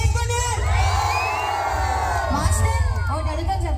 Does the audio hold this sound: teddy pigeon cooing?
no